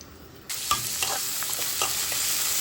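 Sliced onions fry in hot oil with garam masala in a pan. A loud, steady sizzle starts abruptly, and occasional stirring scrapes sound over it, with no one speaking.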